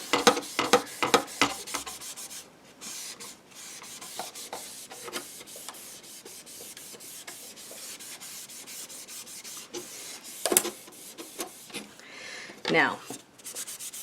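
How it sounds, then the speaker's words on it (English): A wooden frame is hand-sanded with 60-grit sandpaper, giving close, raspy rubbing strokes in uneven bursts with short pauses, and a voice speaks briefly. "that is done with the 60 sandpaper"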